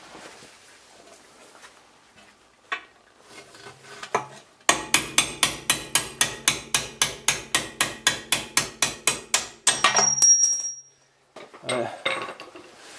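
Hammer blows on a pin punch driving out a Mercedes rear bearing, about two dozen sharp metallic strikes in an even steady rhythm, loud and close, with a few scattered clinks before and after.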